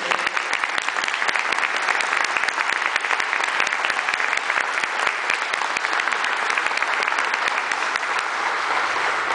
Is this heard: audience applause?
yes